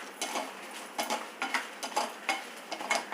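Dried red chillies fry in hot oil in a pan, soft sizzling with a steady run of light taps and stirring clinks, close and fairly quiet.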